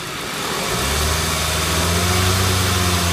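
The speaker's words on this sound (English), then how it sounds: "now it wants us to rev the engine with the loads off" A car engine rises from idle into a steady revved drone during a battery charging system test, loud and close with a low, even hum building and holding.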